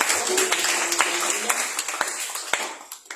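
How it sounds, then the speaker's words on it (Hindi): A church congregation claps hands together in a steady, roughly half-second rhythm to give thanks to God, the claps fairly soft and a little distant over a hiss of room noise. "क्यों ना हम ताली बजा के प्रभु को धन्यवाद दें"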